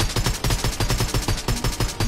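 Rapid gunfire from a gun in the blocky game Minecraft, a fast, even burst of loud shots repeating about four or five times a second, steady and close for the whole stretch.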